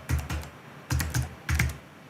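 Computer keyboard typing in three short bursts of rapid key clicks with brief pauses between, close and clear, no voices.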